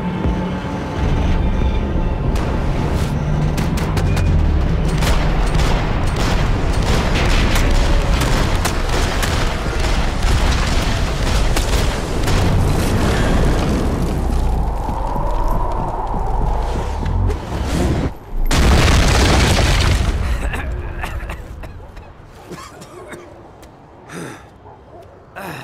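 Rapid gunfire and booming explosions in the action video game Max Payne 3, dense bursts of shots crackling through the first half, then a loud blast and a fading rumble, with voices calling out amid the fighting.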